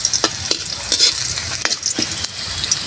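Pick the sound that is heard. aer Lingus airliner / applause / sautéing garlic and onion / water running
sautéing garlic and onion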